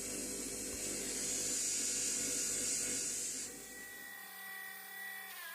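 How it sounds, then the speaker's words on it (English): A 2-inch wide fibre wheel refining a restored hand tool after belt sanding, giving a steady, loud whirring grind that drops to a lower, thinner whine as the motor winds down near the end. "And now over to the 2-inch wide fibre wheel, just to refine the work I've done on the belt sander"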